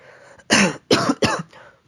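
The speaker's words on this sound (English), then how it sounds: "Got a cough there for a second there" Three sharp, loud coughs in quick succession, close to the microphone, followed by a softer throat-clearing breath.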